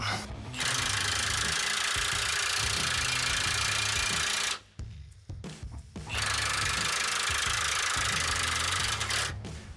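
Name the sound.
cordless drill driving a trailer tongue jack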